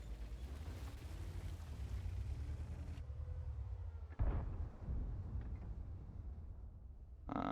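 A tank cannon fires at a T-30 in a video game, one sharp loud blast landing midway through a steady low engine rumble, with no voices over it.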